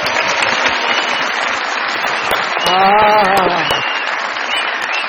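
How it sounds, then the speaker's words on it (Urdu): A studio audience on a comedy show claps in sustained, even applause. A short tonal musical sting rises briefly through the middle, and the clapping carries on loud throughout. "بہت ساری تالیاں بجائیں گے آپ کے لیے"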